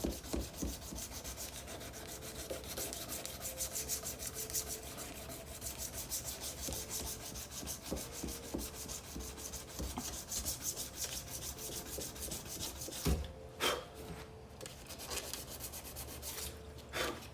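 A knife blade is sanded by hand in steady back-and-forth rubbing strokes, close and continuous for the whole stretch, with a short pause near the end.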